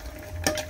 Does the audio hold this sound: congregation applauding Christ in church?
no